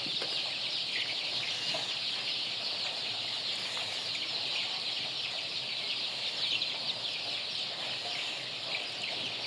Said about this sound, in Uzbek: bu yerda 300 ta xo'roz bor, 1650 ta makiyoni bor.